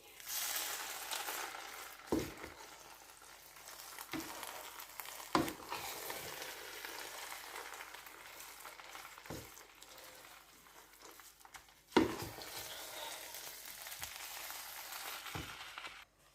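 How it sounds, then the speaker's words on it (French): Riz gras rouge sizzles steadily in a pot on low heat while it is turned and stirred, with a few sharp scraping knocks of the utensil near 2, 5 and 12 seconds and no talking. "Je vais retourner notre riz."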